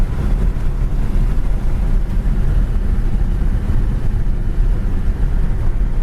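A 1966 Pontiac LeMans sedan cruises at 70 mph, a steady loud roar of engine, road and wind noise filling the cabin without a break.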